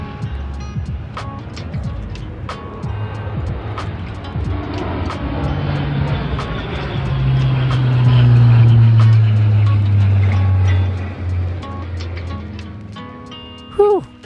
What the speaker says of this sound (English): suddenly we heard an airplane flying by, 3 of them in fact, and it didn't look like a commercial airplane